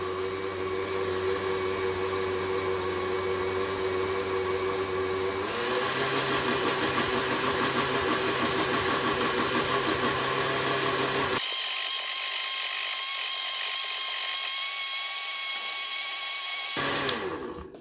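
An electric blender running at low speed while mixing homemade Baileys with chocolate, giving a loud steady motor whine that changes pitch twice, with no talk.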